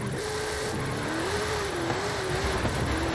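A car engine in Forza Horizon 5 drones steadily while drifting with a manual gearbox, its pitch wavering up and down with throttle changes, continuous and fairly close under tyre noise.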